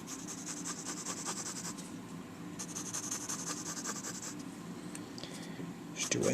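Pencil strokes scratch across paper in quick repeated bursts, close and fairly quiet, with a low background hum and brief pauses between runs of rapid drawing.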